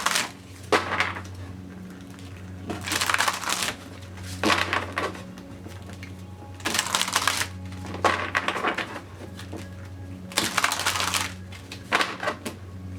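A deck of oracle cards being shuffled by hand: bursts of crisp riffling and flapping card noise come in four rhythmic rounds separated by quieter gaps, close up with a low steady hum beneath.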